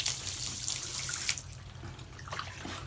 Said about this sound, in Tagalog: Lalagay ako ng tubig dito.